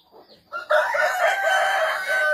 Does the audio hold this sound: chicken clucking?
yes